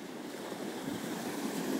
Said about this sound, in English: Big waves coming.